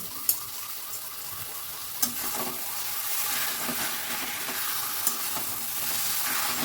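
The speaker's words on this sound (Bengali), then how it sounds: "লোহার কড়াইতে রান্না করছি" Food with beet salt and chopped coriander is stir-fried in an iron wok over a high gas flame, giving a steady sizzle and hiss broken by occasional scraping knocks of the spatula, with no talk.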